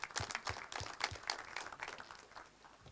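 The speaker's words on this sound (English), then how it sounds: "give yourselves a round of applause" A conference audience claps in a steady round of applause for itself, a dense, fairly close patter of many hands that thins slightly toward the end.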